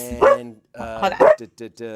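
A husky barks twice in loud, close yips with a whining tone, separated by a short pause, while someone speaks briefly over it.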